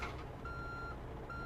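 A truck reverses in a trucking video game, its backup alarm giving two steady, high electronic beeps separated by a short gap over a low engine hum.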